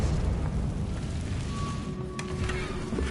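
A Confringo blasting-spell explosion in Hogwarts Legacy: a sustained, loud, rumbling blast with crackling debris throughout, and a brief bright crack near the end.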